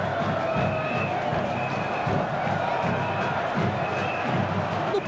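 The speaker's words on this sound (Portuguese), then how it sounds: "A torcida grita, canta" Vasco football supporters fill a stadium with a steady roar of shouting and chanting during a Copa Sudamericana match against Aurora, a dense continuous crowd wash with faint voices on top.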